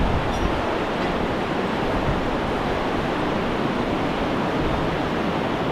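A river rushes beneath the Hillary Bridge on the Everest Base Camp trail, a dense, steady roar of water that fills the whole scene without letup.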